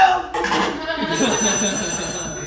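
A telephone rings in a film scene, a bright electronic ring with sustained tones, while voices are heard under and around it.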